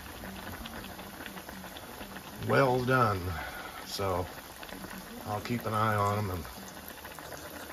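Tilapia fish deep frying in hot oil gives a constant hissing, bubbling sizzle that runs under a voice as he talks.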